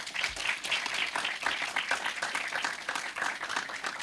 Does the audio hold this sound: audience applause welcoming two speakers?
yes